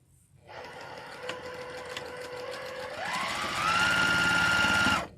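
Domestic sewing machine running a final seam, a continuous close whirring hum that climbs in pitch as it speeds up, then stops abruptly at the end.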